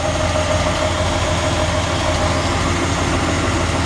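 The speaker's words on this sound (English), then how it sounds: "Just being quiet for a second so you can hear the engine." A 1974 Ford F100 pickup engine idles steadily on its own, a continuous low rumble with even loudness throughout and no talking.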